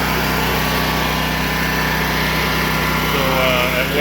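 A Predator 670 engine on a 2021 pressure washer build idles steadily at around 400 RPM, a loud continuous drone with a low rumble that stays even throughout.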